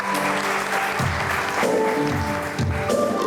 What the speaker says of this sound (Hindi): बहुत सारी तालियां बिल्किस के लिए आ जाओ।